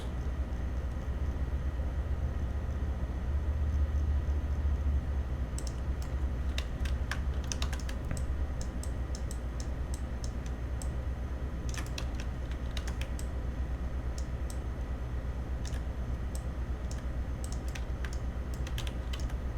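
Keystrokes on a computer keyboard while a Far Cry 5 Arcade map editor runs, heard as scattered clicks and short bursts of typing over a steady low hum. The keys stay fairly quiet, and no one speaks.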